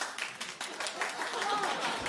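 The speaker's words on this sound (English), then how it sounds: "they're only clapping because they want to be seen on the TV" A small studio audience at a television talk show claps, a few hands patting unevenly and fairly quietly for a couple of seconds with faint voices around.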